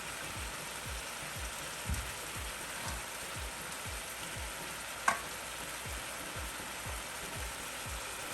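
Gizzard fries in a pan for a plantain-and-gizzard tomato dish, making a faint, even crackling sizzle with a regular pulsing undertone and one brief clink, with no talk.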